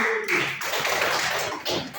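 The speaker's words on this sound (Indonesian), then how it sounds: "Kita beri tepuk tangan dulu" Applause from a classroom of students, a steady burst of many hands clapping together for about two seconds, fairly close and filling the room.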